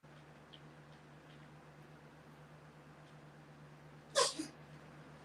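A single sharp sneeze bursts out near the end, loud and close, over a quiet room with a steady low hum and faint breathing.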